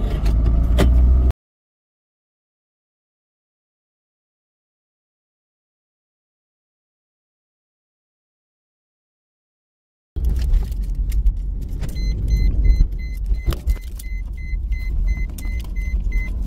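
A vehicle is driven down to a parking area, with a brief burst of rumbling road noise, a long silent gap, then renewed engine and road rumble with faint clicks and rattles.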